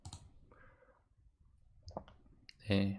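A computer mouse clicks on a browse button inside Visual Studio, giving a couple of sharp, brief clicks close by, with a person talking before and after them.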